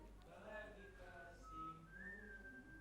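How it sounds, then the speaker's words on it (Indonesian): Whistling rises from a church congregation during an Indonesian Pentecostal service, a few sustained wavering tones drifting in the room beneath a low hum and a faint voice. "Siulannya ngalahin saksofon saya."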